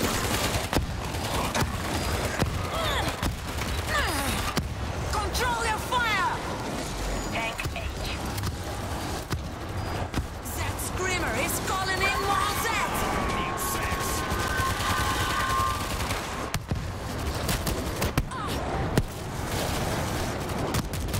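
Near-continuous gunfire fills a World War Z battle, dense rattling bursts layered over a loud, churning wash of noise with voices shouting underneath throughout.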